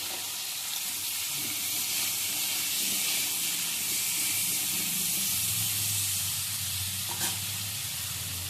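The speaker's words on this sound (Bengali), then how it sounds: "এবার ঢাকা দিয়ে আর গ্যাসের আঁচটা কমিয়ে আমি ভাজা ভাজা করে নিচ্ছি" Potatoes frying in a covered pan over a low gas flame for Bengali aloo posto, a steady close hiss and sizzle with faint stirring and a low hum underneath.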